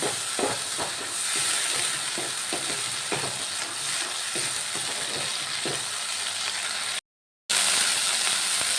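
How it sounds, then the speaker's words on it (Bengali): Tomato paste frying in a pan, a continuous loud sizzle and hiss with scattered pops and spoon-stirring scrapes, close up and without talk, briefly cut out near the end. "টমেটোর পেস্টটা দিয়ে দিলাম এবার আমি এই টমেটোর পেস্টটা ভালো করে ভাজা ভাজা করে নেব"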